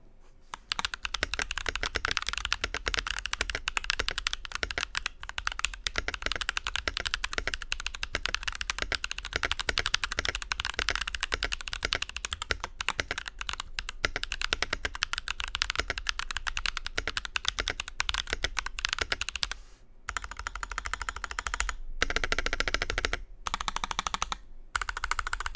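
A Nuphy 65 mechanical keyboard fitted with new keycaps is typed on in a rapid, continuous flurry of clicky keystrokes for about twenty-five seconds, close and fairly loud, with brief pauses near the end and no talking.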